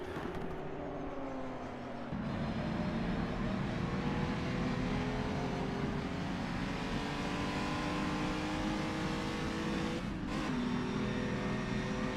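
Race cars at the Tourist Trophy circuit at Dundrod roar past in a historic endurance race, engines loud and revving, with a pitch sweep as one car passes close and another surges by later.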